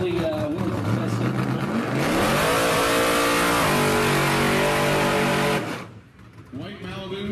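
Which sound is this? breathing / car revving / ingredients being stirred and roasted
car revving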